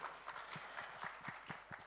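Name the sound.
audience applause at a film trailer launch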